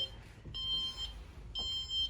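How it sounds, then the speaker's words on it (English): Warning beeps from a library security alarm system, two sustained electronic tones repeating about a second apart to signal the alarm is about to sound, clear and moderately loud indoors with no talking. "they're gonna get those beeps. Those are warnings that the alarm is about to go off."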